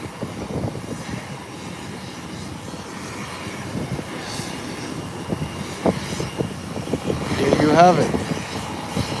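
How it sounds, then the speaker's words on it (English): An ATR 72 turboprop airliner takes off from an international airport, its engine drone steady in the background and swelling near the end while someone talks over it. "And it's off the ground. It's up and away. Beautiful takeoff."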